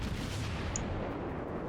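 Enemy naval gunfire in the World of Warships video game, a dense, continuous rumble of booming shell fire that fills the whole short stretch at steady loudness, with no talking.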